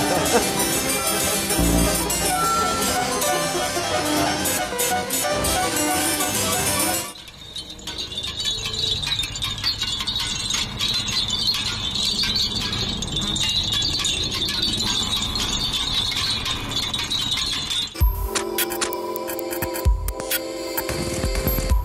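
Experimental music pieces play back to back in a short compilation, including work by Cage and Xenakis: a dense, clattering texture, then a sparser stretch with a sustained high tone, then a cut to a jagged, pulsing passage.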